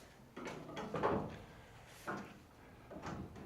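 A van door being shut in a workshop gives a few soft knocks and clunks, one firmer thud near the middle and lighter taps afterward, all fairly quiet.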